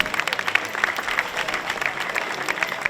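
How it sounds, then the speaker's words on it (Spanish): Applause at a motorcycle gymkhana during a town fiesta: a crowd claps steadily for a few seconds, an even patter of hands with no break. "un fuerte aplauso"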